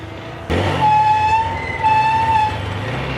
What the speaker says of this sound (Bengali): ব্রেক প্যাডের থেকে কত সাউন্ড হয়